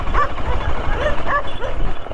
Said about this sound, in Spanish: Ahí nuestros amigos los perros mueven la cola, así que son amistosos.